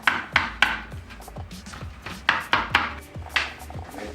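Red chilies being roughly chopped with a knife on a board, a dozen or so sharp uneven knocks in quick irregular bursts, close and clear.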